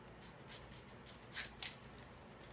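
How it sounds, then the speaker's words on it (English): Quiet snipping and crisp paper cutting sounds, a few soft strokes building to two sharper cuts, close by and without talking. "with some scissors, I'm simply going to cut"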